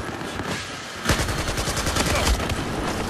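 Rapid gunfire from Battlefield 4, a burst-heavy exchange of shots that erupts loudly after a brief quieter moment and continues as dense, overlapping automatic fire.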